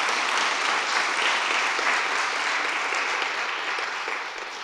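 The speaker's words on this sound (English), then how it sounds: "please, claps to all of them." Audience applause at a conference closing plenary, a dense, even roar of clapping hands holding steady and then tapering slightly toward the end.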